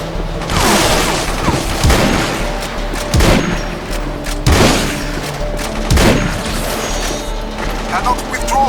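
Heavy enemy gunfire and explosions in the Xbox 360 shooter Battlefield 2: Modern Combat, loud sustained volleys punctuated by several big booming blasts, with radio-style voice lines layered over the combat.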